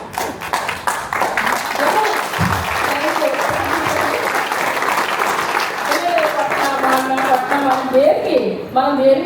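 Audience applause at a winners camp speech event, sustained crowd clapping that swells and holds, with a voice speaking over it near the end.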